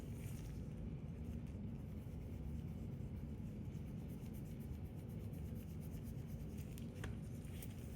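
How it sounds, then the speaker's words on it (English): Chrome powder is rubbed onto nails in small circular motions, making a soft, continuous, faint rasping rub without a break. "Rub in small circular motion."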